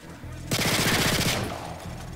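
Automatic pistol fire in Modern Warfare 3, a rapid burst of close, loud shots lasting about a second amid game background noise.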